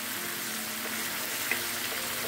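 Tempeh sizzling loudly in a pan as water and sweet soy sauce are added, a steady bubbling fry close up with a faint clink of a utensil.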